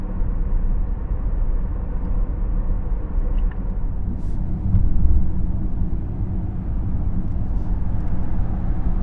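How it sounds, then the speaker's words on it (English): A truck rumbles past a Tesla Model S Plaid with broad, steady road noise, swelling briefly midway before settling back into a continuous low drone. "This truck passes by."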